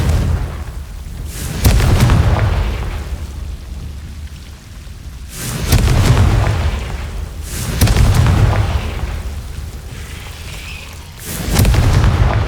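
Confringo blasting spells in Hogwarts Legacy set off deep booming explosions, four heavy blasts spaced a few seconds apart, each rumbling and decaying into a rainy, hissing background with no speech.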